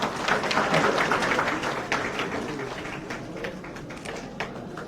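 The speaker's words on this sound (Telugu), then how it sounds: "ఒకసారి చప్పట్లు కొట్టేసేసేద్దాం" An audience claps at a ration card distribution event, a loud burst of dense applause that gradually thins and fades over several seconds.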